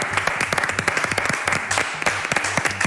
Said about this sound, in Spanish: Este aplauso para vos.